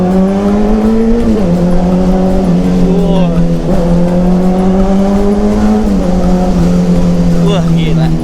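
A Honda CBR600 sport bike fitted with a new racing exhaust revs hard and continuously, its loud raspy engine note rising and dipping through several throttle blips close to the listener.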